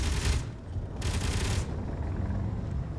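A turret fires in the Space Engineers video game: two short rapid bursts of automatic fire over a low rumbling background.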